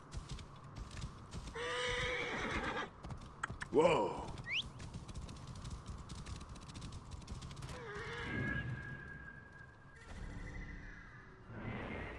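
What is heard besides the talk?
horse neighing and hooves, video game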